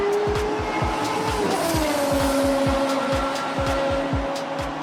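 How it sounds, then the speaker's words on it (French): Race car engines on a race track, loud revving with rising and falling engine pitch, rapid repeated mechanical bursts and squealing tires, close and continuous without talk. "Ils font monter leur moteur et se préparent pour la course."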